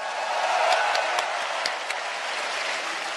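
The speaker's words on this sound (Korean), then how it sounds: "여러분 큰 박수 부탁드립니다." Supporters at a Democratic Party political rally in Korea applaud a candidate, a moderate, steady wash of clapping from a crowd heard somewhat thinly and at a distance.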